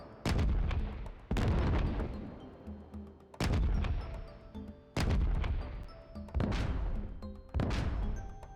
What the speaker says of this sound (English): My favorite explosion sound.